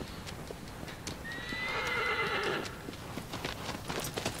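Horse in the Shadow of the Colossus remake, a video game, whinnying and neighing with hoof clip-clops over faint ambient game sound, a rising neigh in the middle of the clip with no talking.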